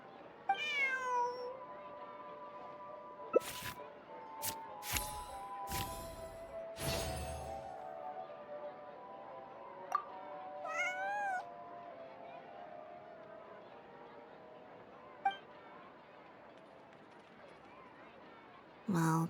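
Several short meows from a cat in the video game Genshin Impact, scattered over a quiet ambient game background with occasional sharper clicks and effects, no talk.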